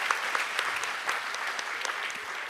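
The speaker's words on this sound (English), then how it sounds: "please make a big applause for Thomas Bray" Audience at the Ajou International Conference applauding Thomas Bray: a steady, dense patter of many hands clapping at once, filling the hall evenly for a couple of seconds with no voices on top.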